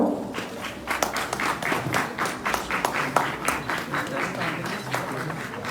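Scattered clapping from a small crowd, steady and moderately loud, with individual claps standing out in an uneven rhythm.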